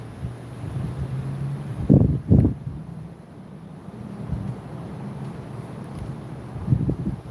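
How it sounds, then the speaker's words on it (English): Outdoor wind buffets the microphone in low rumbling gusts, swelling briefly around the middle and again near the end, with a constant steady background hum. "found a good spot. It's windy"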